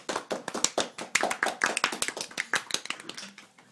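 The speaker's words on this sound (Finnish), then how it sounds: "Aplodit Ollille." A small group claps for Olli, a quick run of close, sharp claps that taper off after a few seconds.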